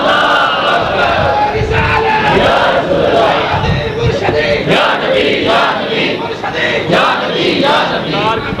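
A crowd shouts a religious slogan in loud unison, with rhythmic cries and yells rising and falling over about eight seconds of sustained, dense chanting.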